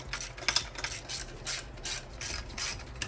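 A ratchet clicks in repeated short bursts while reinstalling a bracket on a supercharger kit for a first-generation Miata, a close, rhythmic metallic ratcheting of about seven strokes with no talk.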